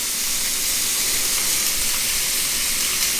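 Ribeye steak sizzling in a hot pan, a steady bright hiss of frying fat that runs unbroken and close throughout with no talk.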